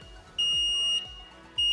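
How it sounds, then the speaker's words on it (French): A particulate filter cleaning machine beeps at the end of its cleaning cycle: a few short, high electronic beeps spaced about half a second apart, fairly quiet and alone. "en fin de nettoyage, la machine émet un bip."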